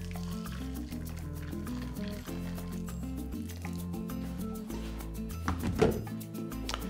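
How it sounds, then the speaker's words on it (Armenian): Boiled water poured into a large pan while cooking green beans, a steady liquid filling sound with small drips heard over background music, no talk. "Լցնում ենք եռացրած ջուր։"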